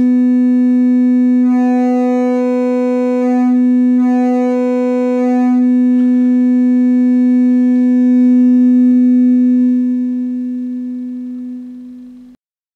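A synthesizer sine tone, clipped first on its positive half and then on its negative half, sounds as a loud, buzzy sustained pitch rich in harmonics, with a short brighter patch midway, before it cuts off abruptly.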